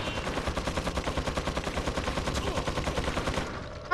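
Rapid automatic gunfire in a shooter video game, a steady burst of evenly spaced shots lasting several seconds, loud and close, then cutting off abruptly.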